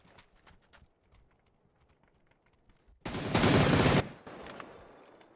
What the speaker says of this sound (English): Taking some early shots.